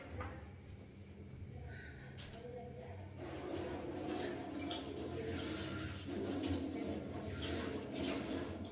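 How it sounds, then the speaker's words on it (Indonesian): Tap water runs steadily as someone washes their hands after handling a large Kiojay mango, a soft continuous splashing that swells after a few seconds, with faint background sounds. "Dan saya mau cuci tangan dulu guys"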